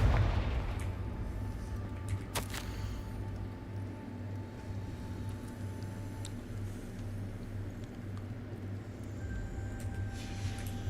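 A Confringo blasting spell explodes in Hogwarts Legacy with a sharp, loud burst about two seconds in, then fades into a steady low rumble of game ambience.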